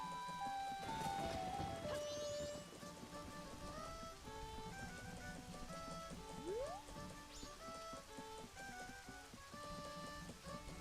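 Rain patters steadily in the video game The Legend of Zelda: Majora's Mask, a soft continuous hiss beneath layered in-game music tones and occasional sliding effects.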